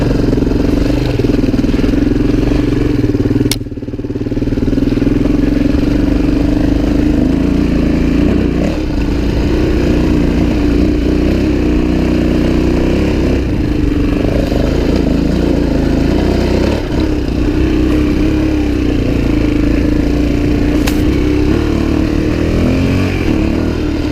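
A Suzuki DRZ400e dirt bike climbs a hill, its single-cylinder engine droning loudly and close with a brief dip as it clicks up a gear, then pulling steadily onward under wind noise.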